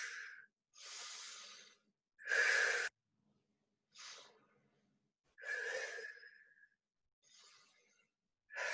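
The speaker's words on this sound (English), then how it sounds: "Exhale, inhale." Deep, forceful breaths during a lower-body fitness class, about six audible inhales and exhales in a slow rhythm with silent gaps between, close and clear.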